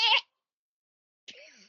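A human voice imitates a goat's bleat, giving two short nasal, wavering calls separated by about a second of silence.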